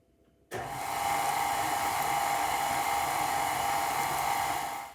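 An electric mixer creams butter with granulated sugar for cookie dough. It starts abruptly after a brief silence, then holds a steady, loud, high motor whir that stays constant until it cuts off at the end.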